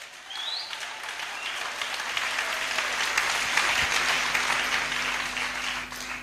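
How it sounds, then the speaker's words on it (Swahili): A church congregation claps loudly together in sustained, dense applause that swells slightly and holds for several seconds. "makofi kwa Yesu."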